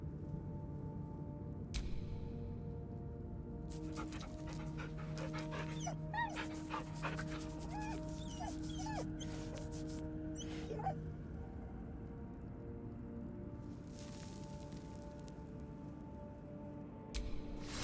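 A dog in Baldur's Gate 3's Hollow Tower whimpers and yips in soft bursts, with light panting, over a quiet, steady game ambience and no talk.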